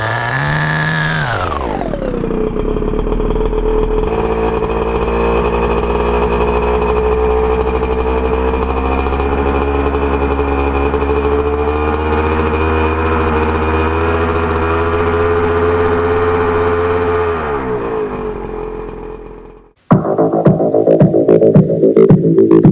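The nitro T3.0 engine in an HPI Nitro RS4 RC car drops from a high whine to a loud, steady, buzzing idle close by. It fades and cuts out near the end, followed by a brief burst of rattling handling noise.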